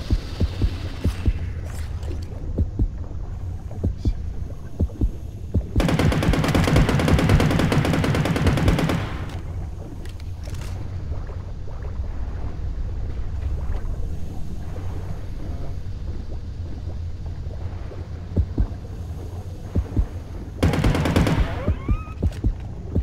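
Gunfire aimed at a shark in the underwater video game Depth comes in two dense, loud bursts, one lasting several seconds and a shorter one near the end, over a low throbbing game hum.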